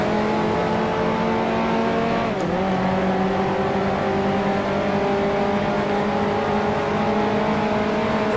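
Racing cars on a forest rally stage, engines roaring loudly and steadily with rising and falling revs, continuous close engine drone throughout with no speech.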